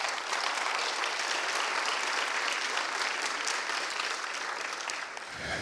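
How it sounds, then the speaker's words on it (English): An audience at a district community meeting with the mayor applauds steadily, a dense sustained clapping that stays loud and even for several seconds before fading slightly at the end. "can we give a hand clap to DPD, please?"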